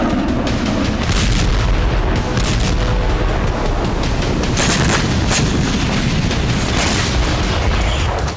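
Explosions from attacks on Beirut sound as loud, continuous heavy blasts and rumbling booms with sharp cracks mixed in, a dense, roaring wall of noise.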